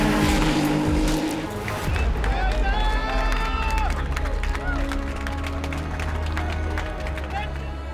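Ferrari Challenge race cars scream past on the final lap, engines whining through shifts with brief tire squeal, crowd noise and a commentator's voice running over the top.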